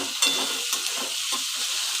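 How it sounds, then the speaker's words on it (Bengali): Chopped onions fry in a hot pan for a prawn bhuna, giving a steady soft sizzle with faint stirring scrapes and no talk. "পেঁয়াজটাকে লাল লাল করে ভালোভাবে ভেজে নিতে হবে।"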